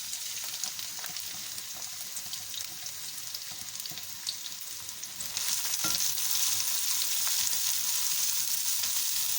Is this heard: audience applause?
no